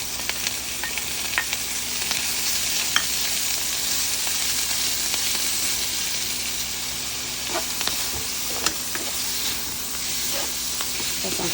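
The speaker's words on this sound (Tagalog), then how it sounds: "Then, lagay ang ating giniling." Ground pork sizzling in a pan with onion and garlic, a dense, continuous frying hiss with scattered crackles and faint stirring clinks throughout.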